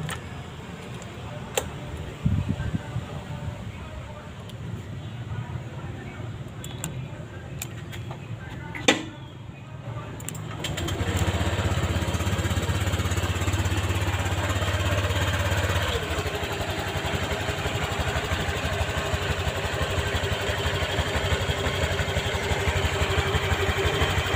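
A Honda Click 125 V3 scooter engine turns over partway through, then settles into a steady, close idle hum with a faint ticking, after a stretch of quieter background.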